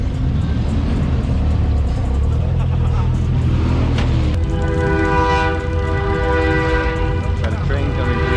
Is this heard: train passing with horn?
yes